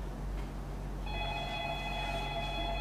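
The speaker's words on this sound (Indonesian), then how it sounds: "Maaf saudara, ada telepon." An electronic telephone ring sounds during a theatrical monologue stage performance, a steady two-tone trill that starts about a second in and continues clearly over low room hum.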